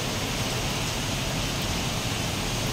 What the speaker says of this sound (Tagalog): Biglang bumuhos ang malakas na ulan at hangin.